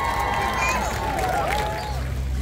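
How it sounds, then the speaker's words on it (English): Outdoor crowd cheering and clapping for the winner of the Mango Melee mango eating contest on St. Croix, a loud brief burst of shouts and whoops with clapping and chatter underneath. "Round of applause."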